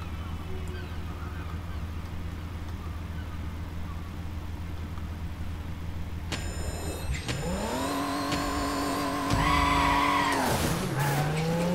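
A race car in Midnight Club LA idles under a low hum, then revs hard and pulls away with rising engine whine and a burst of tire squeal, the roar getting louder toward the end.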